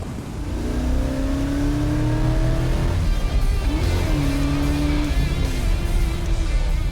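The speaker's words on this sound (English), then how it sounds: "We're cruising in fourth gear. It's got tons of power to go." A V8 car engine cruising in fourth gear hums steadily at moderate revs, a smooth continuous drone with slight pitch shifts, heard close and alone.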